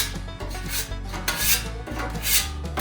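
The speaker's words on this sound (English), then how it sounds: "Scrape all this stuff to the back." A metal scraper drags debris and excess oil across a hot, neglected Blackstone griddle in repeated rasping strokes, roughly one every half second, close and loud with no talking.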